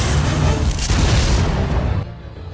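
A linear launcher shot explodes in the Resident Evil Survivor 2 video game, a loud deep sustained boom that rumbles for about two seconds before cutting off abruptly.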